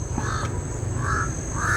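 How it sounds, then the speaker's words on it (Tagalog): Several crows caw outdoors, three hoarse calls spaced apart over a steady background hiss, moderately distant, with no talking. "Ayan, may mga uwak kasi dyan."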